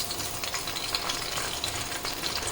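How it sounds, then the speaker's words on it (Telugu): Green chillies hit hot oil in a pan for an Andhra fish curry, producing a loud, continuous spitting sizzle close up, with no talking. "పచ్చిమిరపకాయలు వేసుకున్నాక ఇట్లా సౌండ్ వస్తే మనకి నూనె కాగినట్టు అనమాట."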